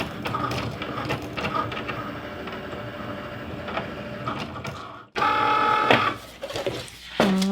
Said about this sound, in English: load it into the machine. And then go ahead and push the button to cut